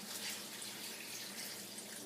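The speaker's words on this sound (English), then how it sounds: "you're going to put in 16 cups of water" Water poured into a cooking pot for vegetable broth, a steady faint splashing stream like a running tap, continuous and alone without talk.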